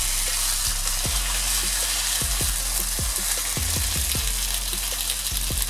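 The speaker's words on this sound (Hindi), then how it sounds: "अभी मैं साइड चेंज करूंगी ताकि स्किन वाली साइड पे भी प्यारा सा कलर आ जाए।" Fish fries on a hot tawa with a steady, loud sizzle, while repeated sharp scrapes and taps from a spatula mark the pieces being turned.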